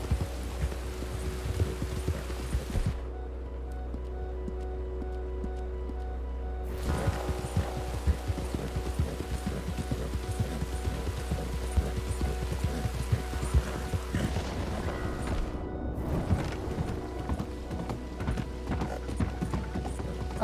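Horse hooves clip-clopping in Red Dead Redemption 2, a steady loud trot over a constant low hum with brief gaps in the noise, without talk.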